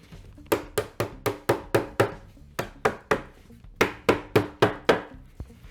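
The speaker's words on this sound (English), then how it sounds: "Let's hammer that in." Repeated sharp hammer blows on wood in two quick bursts of about eight strikes each, driving in a wooden biscuit joint, close and crisp with short pauses.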